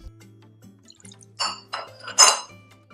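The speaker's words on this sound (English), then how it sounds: "I'm going to pour a bit of our liquid here." Liquid poured into a glass, with soft splashing bursts and light glassy clinks coming in a few short pulses over a faint steady hum.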